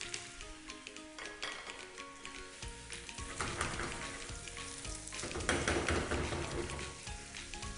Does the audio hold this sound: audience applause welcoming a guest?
no